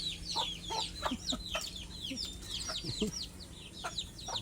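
Chickens cluck and chatter in a farmyard, a busy overlapping mix of short calls and chirps at moderate distance, with other birds and faint background sounds beneath.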